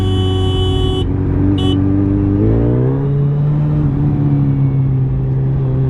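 Superbike engine revving through its exhaust, a strong droning tone that rises in pitch partway through, opening with a short high electronic beep.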